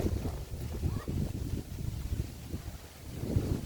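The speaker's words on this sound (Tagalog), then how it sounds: "Lakas ng hangin." Gusty wind rumbles against the microphone at moderate level in Pandan, Antique, rising and falling, with a faint outdoor water ambience and no clear speech.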